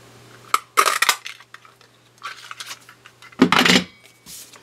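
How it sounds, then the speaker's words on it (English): A paper punch cuts circle shapes from patterned card, giving a few sharp clacking snaps and rattles in separate bursts against a quiet room hum. "I'm cutting out the cherry cobbler with the 2-inch circle punch"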